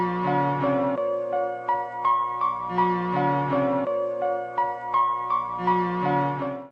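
A short melodic music sample chop for a boom bap beat repeats as a one-bar loop, with mellow tonal phrases cycling at a steady moderate level.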